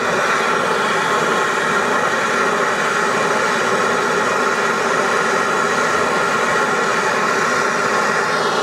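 A torch flame roars steadily while heating rusted-on exhaust bolts on a 300TDI 4x4 truck. It makes a loud, constant, close-up hiss with no breaks and no talking.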